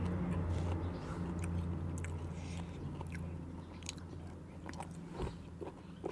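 Crunchy chewing of raw vegetables eaten with spicy Thai som tam papaya salad, steady moist munching close to the mouth with sharper crunches scattered through.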